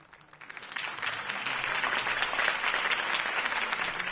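Steady applause from a sizable crowd swells in and holds loud for several seconds, dense and continuous.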